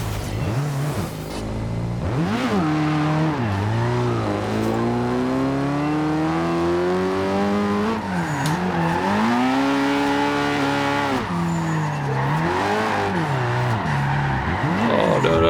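A Nissan S15 drifting in Forza Horizon 2 at high revs, its engine note rising and falling in long sweeping pitch arcs, loud and continuous throughout with faint tire squeal mixed in.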